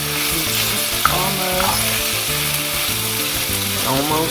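Beef browns in a hot pan for Mongolian beef, sizzling loudly and continuously, with stirring scrapes and occasional clinks of a utensil against the pan.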